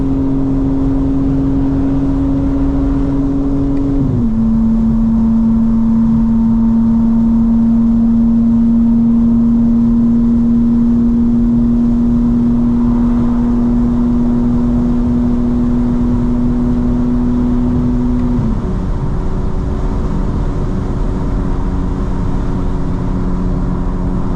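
A modded 2025 BMW M4 CS engine drones loudly and steadily while driving. Its pitch dips early on, holds through a long cruise, then steps up again near the end.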